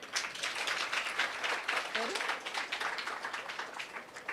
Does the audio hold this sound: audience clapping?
yes